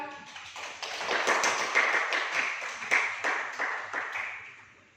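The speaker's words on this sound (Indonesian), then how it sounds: "Beri aplaus buat Nazira" A classroom gives a student a short round of applause, a small group clapping close by in brisk uneven beats that swell and then fade out over about five seconds.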